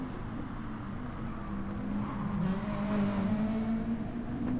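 GR3 race cars run with balance-of-power tuning in a Gran Turismo Sport championship race. Several engines hold a steady, droning tone that rises and falls gently as the cars run close together, with no talking.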